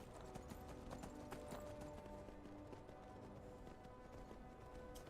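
Horse hooves clip-clop steadily while riding in the game Skyrim, a soft rhythmic trot under a continuous low ambient bed, with no talking.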